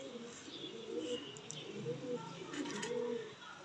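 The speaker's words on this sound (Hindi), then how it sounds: "खुश्क नलियों के अंदर ये कबूतर है। अभी ये जोड़ा मैं छोड़ के दिखाता हूँ।" A breeding pair of pigeons in the open gives soft, low cooing, repeated murmurs close by with faint chirps mixed in, no speech.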